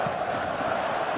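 Stadium crowd in the eFootball video game before kickoff, a steady dense roar of many voices with a faint cheering edge, continuous and even, with no speech over it.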